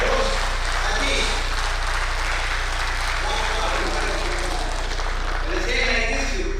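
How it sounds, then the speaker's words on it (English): A crowd at the AHPICON24 medical conference in Tamil Nadu gives applause for the host. The clapping is a broad, continuous wash mixed with voices and a steady low hum from the sound system. "Give a big applause."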